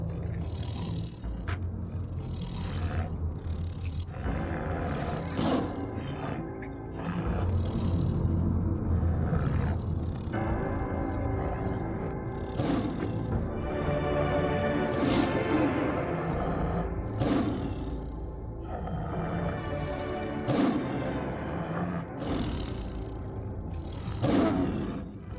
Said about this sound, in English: Apparently there's a tiger in there.